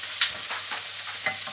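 Ingredients for a lasagne fry in a pan, a close, even sizzling hiss with a few brief scraping stirs.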